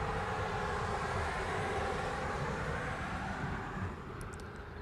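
A United airliner departs Honolulu airport from the reef runway, its engines a steady, distant broadband roar that fades slightly toward the end.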